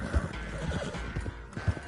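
A dying horse in Red Dead Redemption 2 snorts and whinnies faintly, with soft hoof clops and low thumps in the background.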